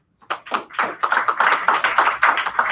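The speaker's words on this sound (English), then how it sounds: "You can applaud for Angie, she's great" An audience at a division staff meeting applauds a staff member, a dense burst of many hands clapping together that builds quickly and holds steady for a few seconds in a room.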